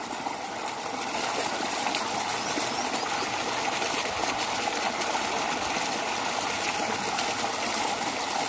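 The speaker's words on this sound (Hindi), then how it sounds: "ओवरफ्लो हो रहा है यहाँ से पानी" Water gushing steadily as it overflows out of a farm water tank, a constant broadband rush with no break for the whole stretch and no voices.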